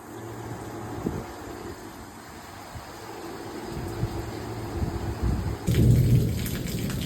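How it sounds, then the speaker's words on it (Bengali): Steady heavy rain pours down, with a deep rumble of thunder swelling toward the end; no voices. "চরম বৃষ্টি হলো"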